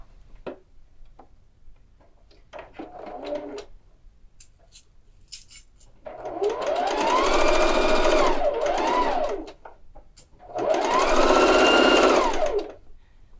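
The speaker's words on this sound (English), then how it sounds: "I'll take this to the machine and I'll sew this at a 1/2 inch seam allowance" A sewing machine stitches a 1/2 inch seam on a tie jacket, starting with a few short ticking bursts, then running in two long, steady, loud whirring passes separated by a brief pause, with no voices.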